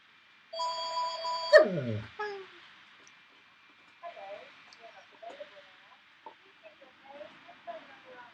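A dog howls at a ringing phone indoors: a bright electronic ring tone opens, then a short descending howl, followed by scattered faint whines and yips with a low hum underneath.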